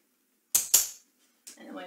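A dog training clicker snaps twice in quick succession, close and crisp against silence, during a scent work game; a voice follows shortly after.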